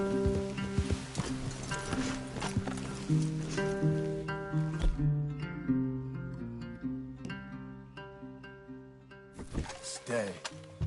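Horses in the video game Red Dead Redemption 2, with soft hoof clops and movement among trees under prominent musical score tones, with speech during the clip.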